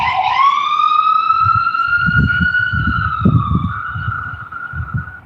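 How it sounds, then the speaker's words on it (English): An ambulance siren passing by on a street, a loud, close, sustained wail that sags slightly in pitch as it goes, over a low rumble of traffic. "I'm gonna let this ambulance go by"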